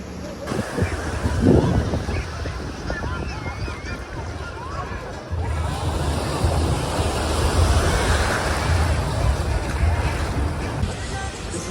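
Ocean surf rolls onto a beach in Salvador, Brazil, as a steady, loud wash of breaking waves with wind buffeting the microphone throughout.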